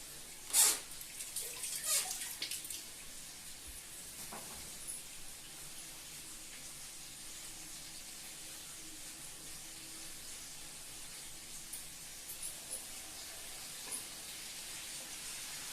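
Tomato drops into crab curry cooking in a pan, a couple of sharp sizzling bursts near the start settling into a faint steady hiss of frying.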